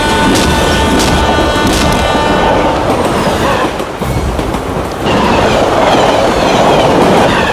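A train rumbles loudly past in a film scene, with continuous clickety-clack of wheels and faint squeals, steady throughout.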